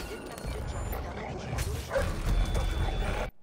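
A dog barks and yelps amid the dense in-game soundscape of Splinter Cell Blacklist at a rebel fortification, the short barks sitting under a loud, steady rumble before the sound cuts off abruptly.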